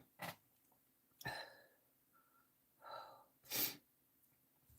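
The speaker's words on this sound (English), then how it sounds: "Here starts the sneezes." A woman sneezes several times in a quiet room, close and sharp, with breathy inhales and sniffs between the bursts.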